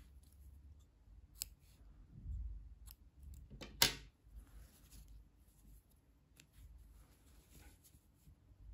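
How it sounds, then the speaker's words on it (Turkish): A single crisp snip of scissors cutting knitting yarn, close and short, in an otherwise quiet room with faint low rustling around it. "İpliği kesiyorum."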